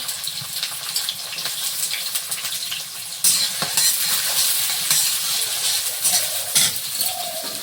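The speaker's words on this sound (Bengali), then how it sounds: "তেলে পেঁয়াজ কুচি, এক তেজপাতা দিলাম, একটা কাঁচা লঙ্কাও আছে" Chopped onion, a bay leaf and a green chili frying in hot oil in a home kitchen, a steady loud sizzle with stirring and scraping that surges louder partway through, with no talking.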